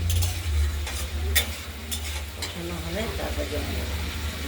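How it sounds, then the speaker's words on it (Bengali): Spice paste with cumin, ginger and chilli frying for a pabda fish curry with potato and tomato, a continuous sizzle with spoon scrapes and a low steady hum, a voice speaking briefly partway through. "মশলাটা দিয়ে আমরা কষিয়ে নিচ্ছি"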